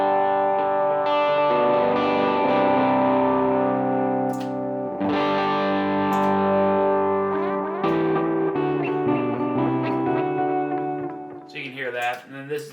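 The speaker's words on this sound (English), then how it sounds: "Then over here you've got the mix back for the delay." Guitar notes run through a delay effect on an HX Stomp pedalboard ring out with distorted, echoing repeats that trail and overlap, then fade into scattered plucks.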